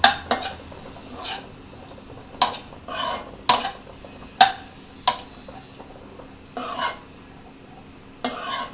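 Green peas, carrots and mushrooms are stirred together in a pan for masala macaroni, about a dozen scraping strokes of a spoon in an irregular rhythm with light sizzle between, close and clear.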